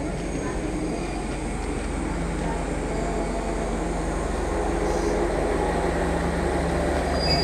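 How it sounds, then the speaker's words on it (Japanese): A train pulls into Kareigawa Station in Kagoshima, a constant heavy rumble and hum that builds slightly, with a voice faintly audible underneath. "あ、電車来た。"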